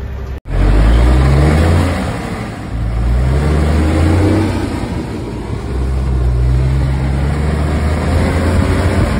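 An open vehicle with no windshield accelerates hard through the gears, its engine loud and close, roaring and rising in pitch with a brief dip at a shift, with no talking.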